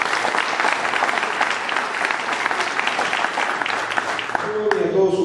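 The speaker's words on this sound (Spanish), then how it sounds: "Un aplauso para ellos." Applause rises from the audience at a Holy Week congress in Piedecuesta, Colombia: steady, full clapping throughout, with a voice breaking in near the end.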